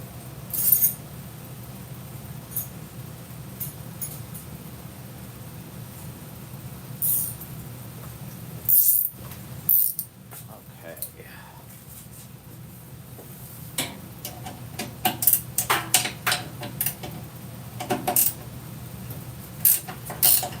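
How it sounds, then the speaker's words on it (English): Metal wrenches picked up and handled in a workshop while repairing an antique washing machine belt, heard as scattered light clinks and ticks over a low room hum, some clustered in quick bursts near the end, with no talking. "let me grab some wrenches"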